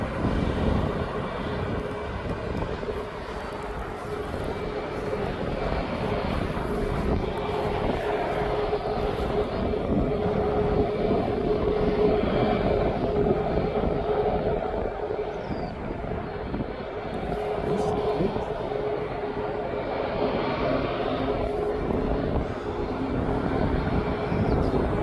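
A TUI jet airliner at East Midlands Airport, a steady, moderately distant roar of jet engines that holds evenly throughout with a low rumble beneath.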